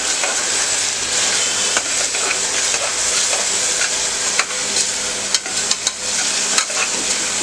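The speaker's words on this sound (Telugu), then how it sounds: "పచ్చిమిరపకాయలు అలా వేసి వేయించుకోవాలి" Chopped green chillies fry in hot oil while a mutton curry is being made, giving a steady, dense sizzle with occasional sharp crackles and stirring scrapes throughout.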